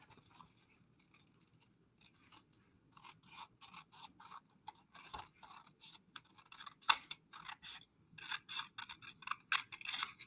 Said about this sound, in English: now all I have to do is cut this off using the envelope flap as a guide